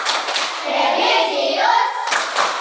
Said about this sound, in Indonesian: Tepuk PPK.